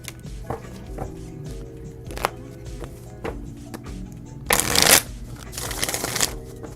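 Tarot cards being shuffled at a live reading, soft scattered taps and slides followed by two louder riffling bursts of cards, close and fairly quiet.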